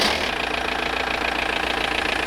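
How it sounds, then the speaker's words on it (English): A diesel car engine, out of gear with the handbrake on, idles steadily and close by during an MOT emissions test, with an even, slightly knocking mid-range rumble and no voices. "and then start the engine, please."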